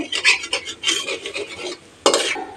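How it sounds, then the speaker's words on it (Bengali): Asafoetida frying in hot oil with a loud, near sizzle and repeated scraping stirs of a utensil against the pan, a short pause, then another burst of stirring. "ওয়ান ফোর টিস্পুন হিং অ্যাড করে নেড়ে দিচ্ছি"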